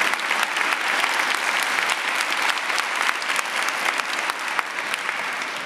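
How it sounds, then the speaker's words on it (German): Thunderous applause rises from an audience at a university lecture slam event to welcome a speaker. It is loud, dense and continuous, with sharp individual claps standing out from the roar, and no voices cut through. "begrüßt mit einem donnernden Applaus Benjamin"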